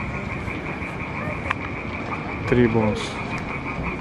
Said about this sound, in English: And you can hear frogs making sounds.